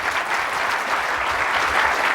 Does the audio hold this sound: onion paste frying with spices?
no